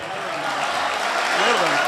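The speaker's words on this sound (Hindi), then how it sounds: "ताली होनी चाहिए यार ऐसे शेर पे।" Audience applause at a student poetry recital, a mushaira at Government College Jhang, forms a brief, dense wash of clapping with a voice speaking over it.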